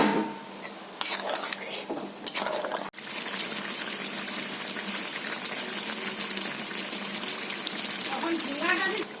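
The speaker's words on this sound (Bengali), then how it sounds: "তরকারি ফুটে গেছে, আমি ভেজে রাখা ঝিঙেগুলো দিয়ে দিচ্ছি" Fried ridge gourd pieces are added to a boiling fish curry in a pot, giving a steady close bubbling and sizzling wash with clinks of utensils against the pan, and a brief pause partway through.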